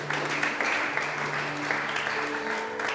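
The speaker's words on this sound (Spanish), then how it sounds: "Démosle una ofrenda de aplauso al Señor." A church congregation breaks into steady applause, a dense wash of many hands clapping together with a faint sustained tone underneath, continuous for the full stretch.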